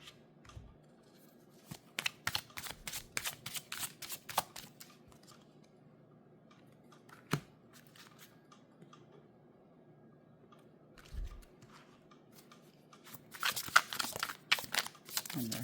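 Tarot cards are shuffled by hand in close bursts of rapid riffling and flicking, with quiet pauses, a single sharp tap midway, then another busy flurry of card sounds near the end.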